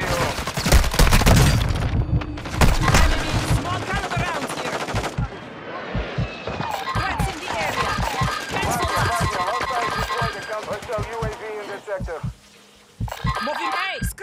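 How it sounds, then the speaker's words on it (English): Airstrike explosions and dense gunfire in a military shooter game, heavy booms and rapid crackling bursts overlapping with shouted voices, loud and chaotic throughout with a brief lull near the end. "There's the airstrike in the AO."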